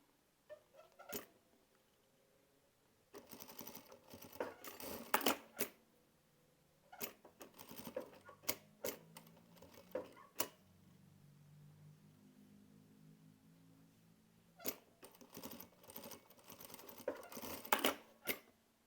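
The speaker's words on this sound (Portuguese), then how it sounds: "eu passo uma costurinha aqui para travar a orelhinha também no lugar" A sewing machine stitching a plush toy's ear in place runs in several short, rapid rattling bursts separated by pauses, quiet and close, with no one talking.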